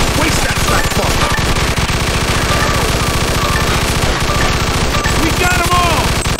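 Sustained automatic gunfire in the Mafia II Definitive Edition shootout, loud and continuous rapid bursts with a thick low rumble, mixed under voices shouting throughout.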